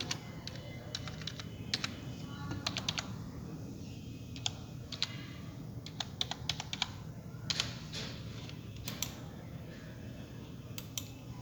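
Keys clatter on a computer keyboard as an email address is corrected during an Outlook 2013 account setup, with irregular bursts of quiet, close keystrokes and short pauses, and no talking.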